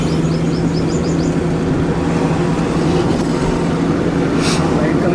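A car being driven in second gear on a road while another vehicle approaches, a steady engine and road drone throughout with someone talking over it.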